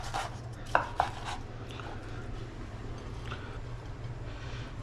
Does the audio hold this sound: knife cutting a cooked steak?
yes